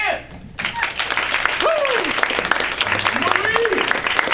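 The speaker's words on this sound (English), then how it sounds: "Can I bring out, and to a round of applause," Audience applause greets the cast members as they are introduced on stage, a dense steady wash of clapping with cheering tones rising over it and a voice talking through the noise.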